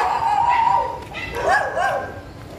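Several dogs bark and yip at night outside a house, sharp high barks with whimpering tones coming in short bursts, fairly close and loud over a steady background hum.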